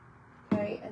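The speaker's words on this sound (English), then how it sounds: "Let's spray our transfer." A brief hiss of spray hits a transfer sheet used for UV resin trinket trays, starting abruptly midway and lasting under half a second, close and fairly loud.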